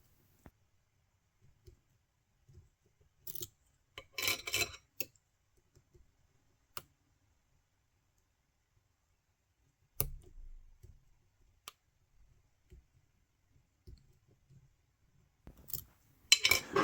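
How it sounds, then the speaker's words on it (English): Soft metallic clicks from lock pins while an ASSA Twin V10 lock is picked under light tension, heard in brief scattered clusters separated by near silence, close and quiet. "Got a few nice clicks now."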